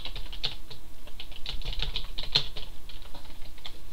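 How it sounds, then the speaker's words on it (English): Rapid clacking of keys on a computer keyboard, dense irregular taps at close range with no talking. "I just was closing out excess programs. That's why I was typing there for a second."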